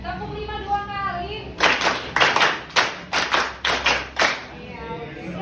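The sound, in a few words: class clapping a rhythmic pattern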